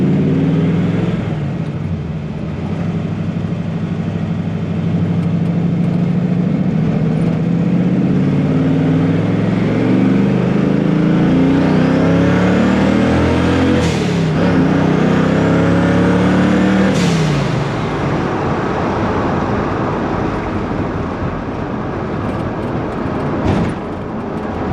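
A boosted Fox body Mustang coupe running 14 pounds of boost drives hard, its engine loud and close, rising through sustained acceleration runs with pitch climbing and dropping at gear changes, no talking.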